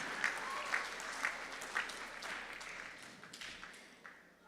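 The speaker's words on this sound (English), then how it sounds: "Can we please give them a big round of applause?" Families at a school assembly receive a soft, fairly distant round of applause from the gathered audience, steady scattered clapping that thins out toward the end.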